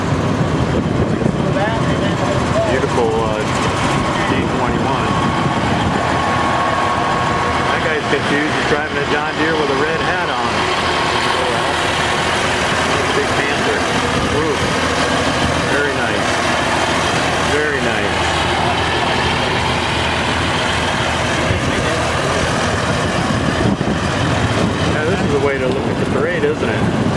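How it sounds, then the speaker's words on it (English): Continuous rumble of several idling tractor engines at a parade, loud and steady, with people talking over it throughout. "you'll see a lot of tractors coming back from the parade"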